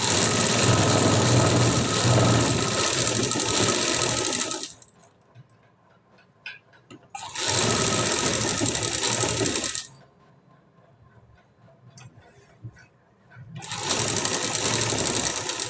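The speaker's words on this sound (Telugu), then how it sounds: "చుట్టూరా మనమైతే ఒక స్టిచ్ అయితే వేసుకుంటూ రావాలి" A sewing machine stitches around a blouse back design in three loud, close bursts of steady whirring, separated by pauses filled with faint handling noises.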